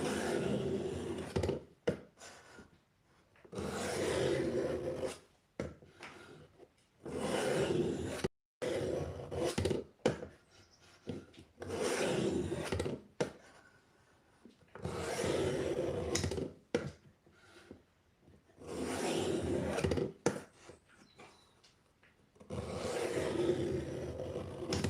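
A knife drawn across a sharpener in repeated strokes, close rasping grinds that come in steady bursts a couple of seconds long, separated by short gaps.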